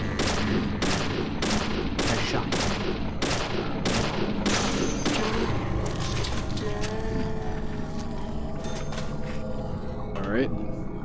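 Gunfire in Deadly Premonition: about eight loud shots ring out in a steady, evenly spaced rhythm, then more scattered shots follow amid game noise.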